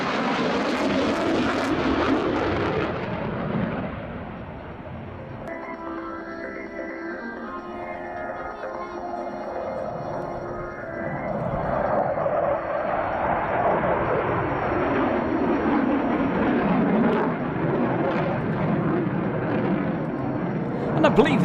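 A Tornado fighter jet sweeps through a Schneider turn at an air display, its engine roar loud and sustained, swelling, easing, then building again across the pass with a shifting whine, while a voice speaks over it.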